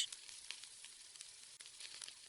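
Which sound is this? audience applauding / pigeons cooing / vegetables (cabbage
vegetables (cabbage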